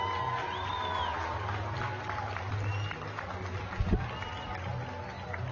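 Crowd applauding and cheering at a Bassmaster Elite Series bass fishing weigh-in on Cherokee Lake in Knoxville, Tennessee, a steady broad wash of clapping and voices with an announcer talking over it.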